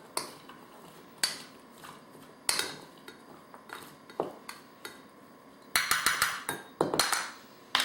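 Grape tomatoes and other vegetables tossed and stirred in a bowl for a raw vegan dish, a series of sharp clinks and scrapes of a utensil against the bowl, sparse at first, then a quicker cluster near the end.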